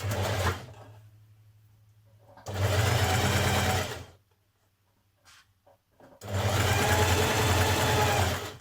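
A sewing machine stitches a fabric facing around a smock dress neckline in three steady runs, each a couple of seconds long, with quiet pauses between them.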